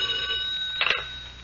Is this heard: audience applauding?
no